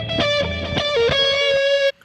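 Distorted lead electric guitar through Logic's stock amp plug-ins with high gain, playing a sustained, bending melodic line with dense harmonics for about two seconds before stopping abruptly.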